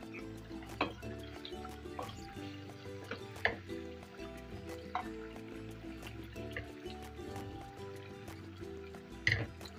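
A little water is poured from a yogurt bowl into a pot of Delhi-style wedding badami qorma meat before it goes on low heat. Faint, steady dripping and trickling with soft splashes is heard throughout, quiet and without speech.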